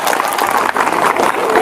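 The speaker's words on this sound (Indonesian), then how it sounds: "Tepuk tangan dulu, duduk." A church congregation claps in a dense, continuous patter for a short burst, close and loud, with voices mixed in.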